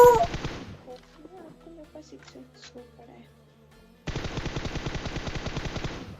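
Sustained automatic gunfire from the video game Free Fire, a loud rapid rattle at the start and again at the end, with a quieter stretch of softer game sounds and faint tones in between.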